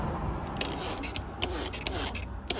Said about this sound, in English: let's go ahead and spray this again